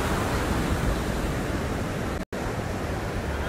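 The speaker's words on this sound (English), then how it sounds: "What a beautiful beach." Ocean waves at a beach make a steady, dense wash of surf noise, broad and constant, with one brief dropout midway and no voices.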